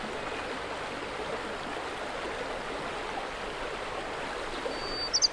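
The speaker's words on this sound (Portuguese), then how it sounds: "os cursos de água banham uma galeria de árvores ripícolas" A mountain stream runs past a gallery of riverside trees in the Serra da Estrela, a steady broad rush of flowing water alone with a faint birdlike chirp at the end.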